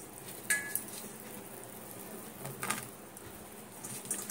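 Mango pieces dropped by hand into melted sugar syrup in a pan for a sweet mango pickle, giving a couple of soft splashing bursts over a faint, steady simmering hiss.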